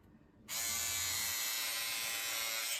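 Budget electric scissors switch on and cut through a single layer of fleece fabric, a sudden close, steady high buzzing motor drone that runs continuously for over two seconds.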